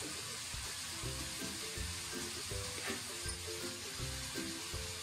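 Cauliflower stir-fried with sugar, salt and oyster sauce in a wok sizzles steadily, with a rhythmic scraping of the spatula tossing it in regular strokes, close and alone.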